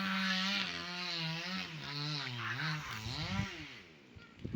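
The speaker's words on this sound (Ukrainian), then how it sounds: "там дрова пиляє" A chainsaw cutting firewood runs close by, its engine revving up and down in uneven surges for several seconds.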